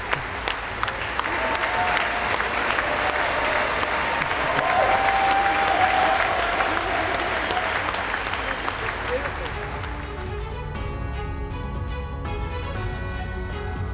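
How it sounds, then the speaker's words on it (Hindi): Loud, sustained applause from lawmakers standing in the US Congress welcoming Zelenskyy fills the chamber, with a voice speaking in Hindi over it. "ने 26 बार ताली बजवाकर जेलेंस्की का स्वागत किया। तालियों की गड़गड़ाहट की आवाज आप सुन"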